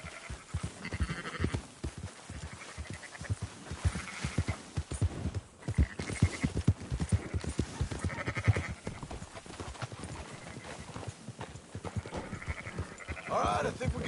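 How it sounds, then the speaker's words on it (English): Sheep bleating and horse hooves clip-clopping in Red Dead Redemption 2, a steady stream of hoofbeats with scattered bleats from a flock, with voices talking over parts of it. "Marston, why don't you leave the sheep to me?"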